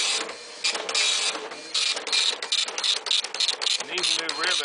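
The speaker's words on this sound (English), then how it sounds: "I'm going to send it a generic test print from Windows" An IBM ProPrinter 2 dot matrix printer, missing its top cover and due for a new ribbon, runs a generic test page sent from Windows 98. Its print head rattles out dense bursts in quick rhythmic passes, close and fairly loud, with brief pauses between lines.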